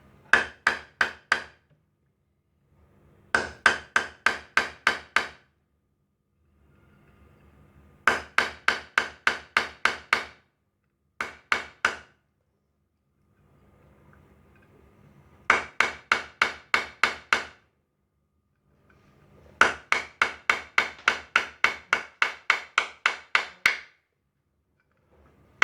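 A 6 mm drill bit is hammered slowly into ceramic tile in bursts of rapid, evenly spaced sharp knocks, six to twelve strikes per burst, separated by short pauses, close and clear with no talking.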